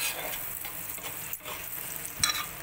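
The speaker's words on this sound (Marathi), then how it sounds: "आता आपण दुसरा ब्रेड त्याच्यावर ठेवणार आहोत आणि ह्याला भाजून घेणार आहोत." A buttered sandwich toasts in a pan with a continuous, soft, close sizzle and crackle, with a light scrape near the end and no voices.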